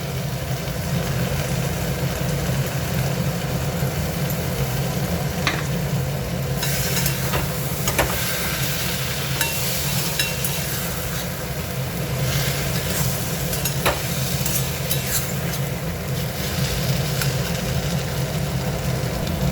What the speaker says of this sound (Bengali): দেখো কষানো হয়ে গেছে